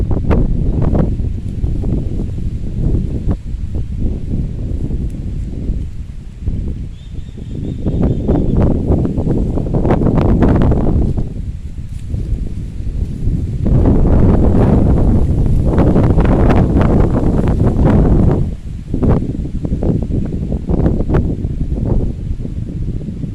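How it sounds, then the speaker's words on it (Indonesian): Strong, gusting wind buffets the microphone outdoors during casting for snakehead fish, a loud, continuous roar that surges and eases in waves with no talk. "Angin besar tuh."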